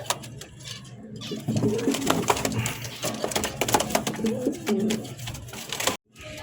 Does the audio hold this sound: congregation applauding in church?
no